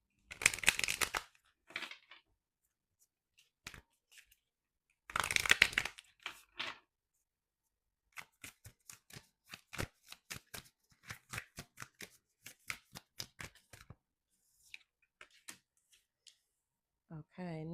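Tarot cards shuffled close up in two loud riffle bursts near the start and at about five seconds, then a long run of sharp, evenly spaced flicks and taps as cards are laid out, with a voice entering only at the very end.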